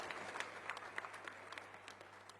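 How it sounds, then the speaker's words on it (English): Scattered hand claps from a small audience of Indian-origin people at a gathering in London, steady and fairly close, with crisp overlapping claps lasting the whole stretch and no talking. "Please give yourself a hand."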